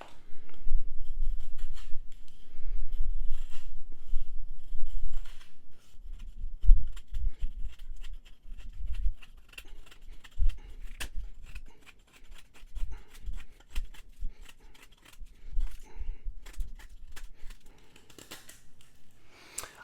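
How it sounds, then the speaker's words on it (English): A knife blade bites into a pine 2x4, starting light and then under heavier pressure, giving repeated close dry scraping and rasping cuts with short gritty strokes throughout. "we're going to test the ergos and how well this edge is still biting into this pine 2x4"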